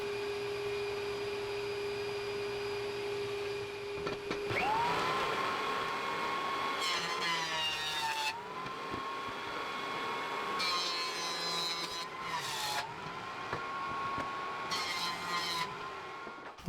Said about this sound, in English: I'm setting my joiner a little aggressive, so I need 1 pass per side,